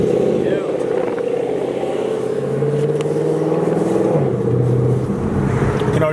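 A Lexus RC F with titanium Lexon Exclusive mufflers idles and revs, a loud, close burbling exhaust drone rising and dipping in pitch throughout, with voices talking over it.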